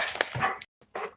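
A dog gives a few short, close yips and whimpery barks in two quick bursts separated by a brief silence.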